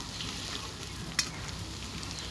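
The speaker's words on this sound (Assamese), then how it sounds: "আৰু এতিয়া পিঁয়াজখিনি অকণমান ৰঙা হোৱালৈকে ভাজিম" Finely chopped onions fry in oil for chicken pulao, giving a constant close hiss and sizzle with one brief sharp click of stirring partway through.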